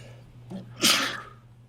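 A single sharp sneeze bursts out near the mic, brief and loud, over a low steady hum.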